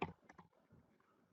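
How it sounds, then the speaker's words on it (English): A few quick, faint keystrokes on a computer keyboard while entering text into a spreadsheet cell, a short cluster of clicks that trails off. "I'm typing in this cell now"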